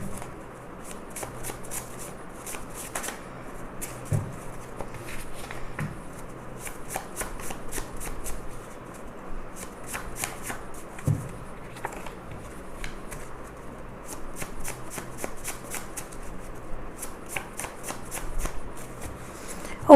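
Tarot cards shuffled by hand during a reading, with repeated quick riffling bursts and soft slaps, close and fairly quiet, continuing in a steady rhythm without speech.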